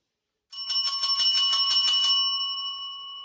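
A small metal bell, like a bicycle bell, rings in a rapid trill of strikes for about two seconds, then its bright tone lingers and fades, loud and close with no talking.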